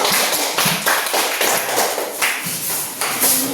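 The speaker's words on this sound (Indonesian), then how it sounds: "Berikan aplaus buat kelompok" A classroom gives group 2 a round of applause, with dense clapping from a small group of people, close and fairly loud, rising and falling over a few seconds.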